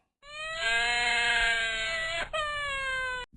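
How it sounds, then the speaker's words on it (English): A baby cries in one long, loud, harmonic wail that breaks briefly and then resumes, close and alone with no talk. "Cry of a baby."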